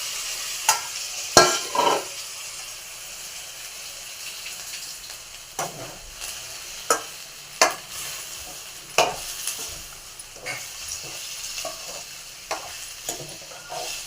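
Cauliflower sizzles in a pan with ginger-garlic paste, as a spoon scrapes and stirs it in sharp, irregular clanks over a soft, steady frying hiss, with no talking.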